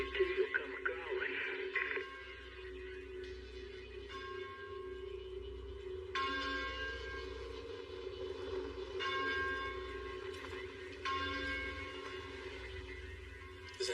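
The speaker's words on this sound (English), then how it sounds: "Is that a church bell?" Bell strikes ring out every couple of seconds over a steady low hum, each tone lingering and overlapping the next, at a moderate distance.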